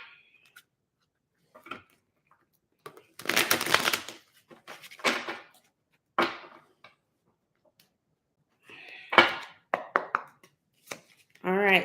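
Tarot cards being shuffled close by in a quiet room, arriving in several short papery bursts with silent gaps between them.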